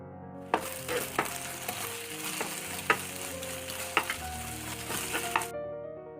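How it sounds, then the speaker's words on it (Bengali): Egg mixture with onion and green chilli frying in a pan, a steady loud sizzle broken by regular clinks and scrapes of stirring, which stop abruptly near the end. "এই মিশ্রণটি ভালোভাবে ভেজে নিতে হবে"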